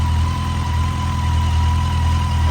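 A 2006 Yamaha FJR1300 motorcycle engine idles after an idle adjustment, a steady, close, even low rumble with a constant hum and no revving.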